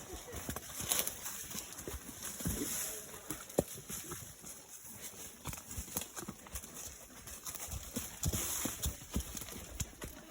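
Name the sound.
horse hooves walking on trail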